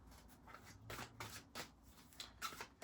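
Tarot cards are shuffled close by, a quiet run of soft riffling and papery slaps in uneven bursts, with no talking.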